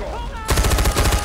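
Rapid automatic gunfire from the player's weapon in the Far Cry 4 video game, a quick rhythmic burst of close, loud shots starting abruptly after a brief quieter moment.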